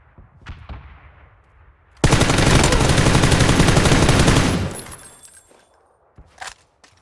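Automatic gunfire in the video game PUBG: after a few faint distant pops, a sustained loud burst of rapid shots lasts about two and a half seconds, then fades, followed by a couple of brief later clicks.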